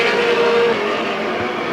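Race cars at Midvale Speedway's 1995 Fall Classic roar past in a dense, continuous engine drone, with one car's whining pitch briefly standing out before the sound settles into a steady, fairly loud track wash.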